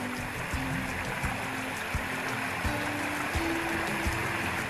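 A stream runs beside a hiking trail in Arkansas, giving a steady, soft wash of flowing water with a faint trickle. It holds an even level throughout with no voices.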